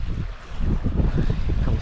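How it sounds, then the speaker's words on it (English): Wind gusts beside a Pennsylvania trout stream in early spring, a low, steady rumble buffeting the microphone with no other clear sounds. "The wind."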